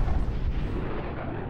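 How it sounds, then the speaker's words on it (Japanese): A staged explosion in a scene from the Japanese film Mad Diver: a deep, rumbling boom that rolls on as a sustained low roar for the whole moment, with no voices. "皆さん見てください！ 爆発が起きました！"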